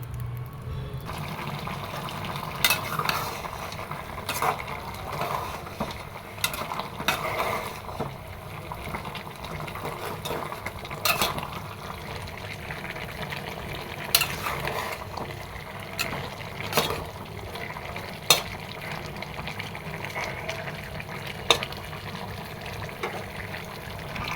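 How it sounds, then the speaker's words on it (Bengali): Fish frying in a pan while being turned and stirred: continuous bubbling, watery frying noise with repeated soft scrapes and knocks of a spatula, steady and close with no voice over it. "এদিক দিয়ে মাছটা ছেড়ে দিয়েছি, ছেড়ে দিয়ে নাড়াচাড়া দিয়ে দিচ্ছি"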